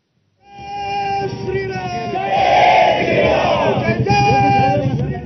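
A large crowd of party workers outside the BJP office in Solapur shouts slogans in unison, a loud, rising roar of many voices that begins after a brief silence and holds steady to the end.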